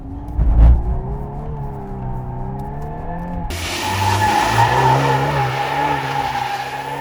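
A VW Golf 8 R drifting, its engine droning and varying in pitch before a sudden louder burst of acceleration with broadband tyre noise, heard close from the car.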